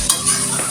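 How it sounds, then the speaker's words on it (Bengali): A brief hiss and sizzle rises as pre-fried chicken meat goes into hot spiced oil in a pan, with a quick stir, close and fairly loud. "এখন আমি ভেজে রাখা গোস্তগুলো দিয়ে দেবো।"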